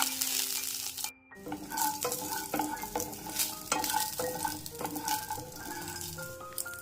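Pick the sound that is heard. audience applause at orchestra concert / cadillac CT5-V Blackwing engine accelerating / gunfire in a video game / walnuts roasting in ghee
walnuts roasting in ghee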